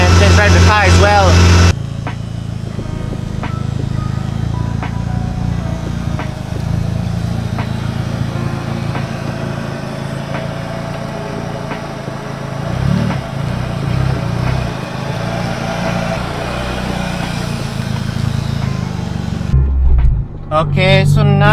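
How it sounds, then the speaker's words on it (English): A car on a test drive after a starter change hums steadily from inside the cabin, with road and engine noise holding throughout and a brief louder stretch near the end. "let's go to Joshua's shop and test drive the car as well"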